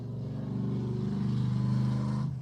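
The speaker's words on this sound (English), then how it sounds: "Loud truck going by." A loud truck rumbles past outside, a steady heavy engine roar that holds for a couple of seconds and then cuts away.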